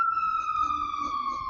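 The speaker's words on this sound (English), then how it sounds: "We got an ambulance going across the way." An ambulance siren wails from across the way, a steady high tone holding across the whole stretch with slight wavering, moderately loud, with faint low background noise beneath it.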